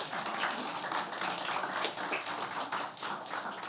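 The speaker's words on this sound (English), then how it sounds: "Let's clap for that immediately" An audience claps steadily in a dense, even patter of hands for a few seconds, soft and slightly distant, with no voices over it.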